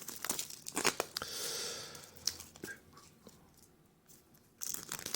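Packaging on a Blu-ray box set of Man of Steel being unwrapped, with bursts of crinkling plastic and a longer tearing rip, close and fairly quiet, then a near-silent pause before more rustling.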